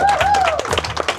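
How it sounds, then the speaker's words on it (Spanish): Applause for the speakers at the start of a van-travel talk, crowd clapping mixed with a voice and whistle-like tones, busy and close. "un gran aplauso para ellos"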